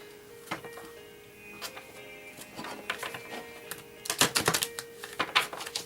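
Tarot cards shuffled by hand, giving bursts of crisp papery clicks and riffles that grow denser and louder toward the end, with no talking.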